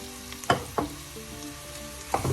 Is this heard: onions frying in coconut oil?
yes